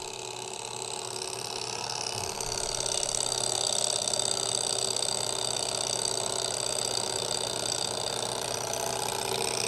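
Small Stirling engine running on a roughly 100 to 150 degree temperature difference, a steady close whirring and ticking mechanical hum with continuous high rattling overtones.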